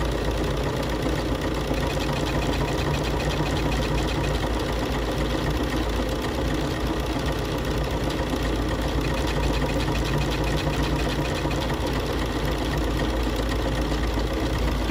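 A Bernina sewing machine, from the 570, 590 and 790 models, runs steadily through a wide decorative tassel stitch. Its continuous mechanical whir and dense rapid clatter stay loud and unbroken throughout, with no voices.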